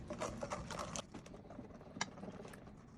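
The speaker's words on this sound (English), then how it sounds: "Just use a whisk and whisk it up." A whisk stirs milk into Jell-O pudding mix in a bowl, giving quiet, quick scraping and sloshing strokes that come in short bursts, softer in the middle, with no talking.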